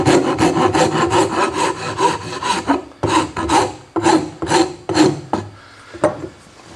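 A hand file smooths a rounded wooden edge in rapid back-and-forth rasping strokes, close and loud, in two bursts split by a short pause before a few slower final strokes.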